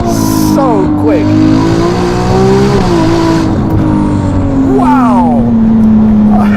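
A Ferrari 296 GTB with a Novitec exhaust revs and accelerates loudly up close, its engine note rising and falling through several climbs in pitch, with a quick rev burst near the end, and a voice talks underneath.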